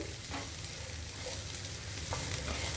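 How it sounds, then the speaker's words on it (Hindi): Sliced onion and capsicum sauté over a high flame, a soft continuous sizzle with occasional spoon scrapes as the vegetables are stirred, alone with no voices. "हाई फ्लेम पर हम इसे चलाते हुए सौटे करेंगे।"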